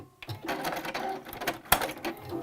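A sewing machine stitches back and forth to backstitch the seam allowance on a fabric jewelry organizer pouch, a steady close mechanical whir that pauses briefly before running on alone.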